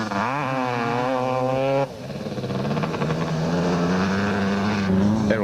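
KTM and Kawasaki off-road motorcycles racing in the 1998 Lichtenburg 400 desert race, engines loud and close, revving up and down in rising and falling sweeps, with a sharp drop and then a steady hard-pulling drone.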